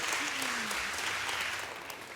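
At an Ocean Race summit in Genova, the audience applauds the race chairman, a steady wash of clapping with a brief voice near the start, tapering slightly at the end.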